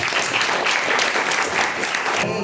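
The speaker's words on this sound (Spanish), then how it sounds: "Un fuerte aplauso nuevamente." Loud, dense applause from an audience at a talk held at the OSFA-WIZO Argentina venue, a steady wash of many hands clapping that fills the whole stretch and cuts off near the end.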